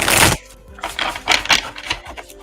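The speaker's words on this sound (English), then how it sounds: "I'll shuffle the cards up real good, clear that energy from that last session" Tarot cards are shuffled up close, opening with a loud riffling burst, then a run of softer rhythmic slides and flicks of card against card.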